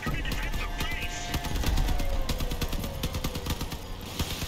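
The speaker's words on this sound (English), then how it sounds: "Machine guns don't have much accuracy at ranges, so I burst fire them like crazy" Machine guns on a vehicle in the Crossout combat game fire in rapid repeated bursts, a dense crackle of shots with engine rumble beneath and voices mixed in.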